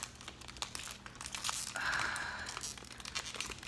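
Plastic packaging for a snack cake crinkles and tears as it is pulled open, close up, in a steady run of crackling rustles with a louder tearing stretch midway.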